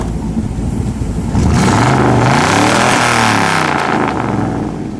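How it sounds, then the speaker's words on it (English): A 1957 Ford Fairlane 500 Skyliner retractable's engine revs hard up close, loud and sustained, the pitch swelling and falling through a strong throttle blip before easing back. "I'm ready for the rev this time."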